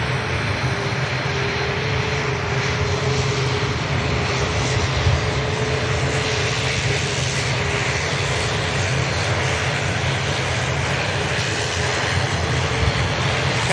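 Jet airliner engines roar steadily at Manchester Airport as a Jet2 plane taxis out, a loud continuous rumble and whine with a sustained tone, close and unbroken with no talk.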